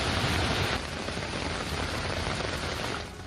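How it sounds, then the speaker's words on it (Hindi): Heavy downpour pouring steadily onto flooded roads, a dense, loud wash of rain hiss with no voices, easing slightly toward the end. "मूसलाधार बारिश की वजह से सड़कों पर पानी भर चुका है"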